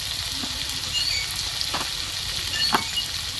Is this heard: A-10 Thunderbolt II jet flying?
no